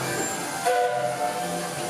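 A steady hiss of escaping steam as a Walt Disney World Railroad steam locomotive's boiler blows down, over a low mechanical rumble, with a faint tonal note rising briefly midway.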